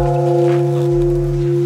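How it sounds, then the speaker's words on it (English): A Buddhist temple bell at a Shikoku pilgrimage temple in Japan, a single loud sustained ring with steady, long-decaying tones and no talk over it. "first you ring the bell for fortune"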